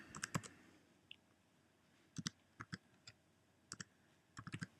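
A child's username is typed on a computer keyboard in short, faint bursts of crisp key clicks separated by quiet pauses.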